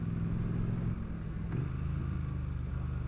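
A Triumph Street Twin motorcycle is ridden at a steady throttle, giving a continuous low engine rumble with a slight dip in pitch partway through, heard fairly close and fairly quiet, with no voice.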